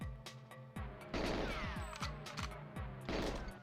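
Game gunfire from Goldeneye 64 on the Nintendo 64: a string of sharp, punchy shots with low booms and clattering hits, packed closely over a layer of game music and effects.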